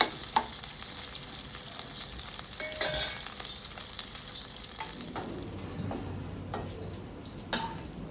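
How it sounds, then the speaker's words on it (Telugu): Bommidi fish frying in a pan on a stove, a steady close sizzle with occasional stirring clicks and scrapes throughout, no talk. "ఈ పొయ్యి మీద పెట్టుకొని ఇవైతే ఇక్కడ వేయించుకుంటున్నా"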